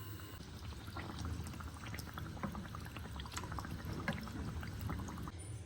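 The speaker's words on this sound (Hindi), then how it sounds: "मैंने यहाँ पे 1 कप चीनी में 2 कप पानी डाल के रख दिया है चाशनी बनने के लिए" Sugar and water syrup (chashni) for malpua bubbling in a pan, one cup of sugar to two cups of water, a continuous close simmer with scattered small pops and no talking.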